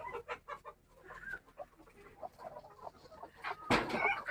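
Native Gavran hens cluck in short, uneven bursts on a farm where poultry and goats share one space, with a louder, sharper call near the end.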